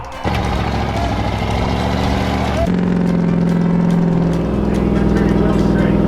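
A stuck vehicle's engine revs hard as its wheels spin in place, a loud sustained drone that climbs in pitch midway and holds, while a person talks over it.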